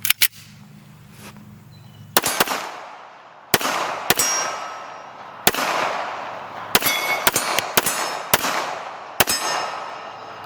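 Sig Sauer 1911 Nightmare .45 ACP pistol fired at a range, about a dozen sharp loud reports in irregular clusters, each followed by a brief ringing decay.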